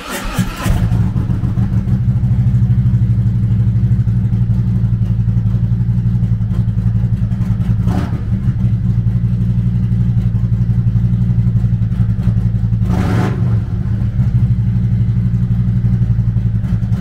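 A 2018 Harley-Davidson Ultra Limited with a 107 cubic inch V-twin engine runs loud and close in a steady, throbbing idle for the whole stretch, with two brief throttle blips and no talking.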